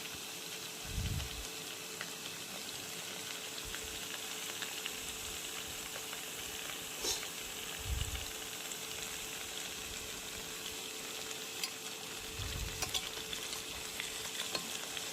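Soft, continuous frying sizzle as vegetables cook in oil, broken by occasional low scraping stirs of a spatula; no voices.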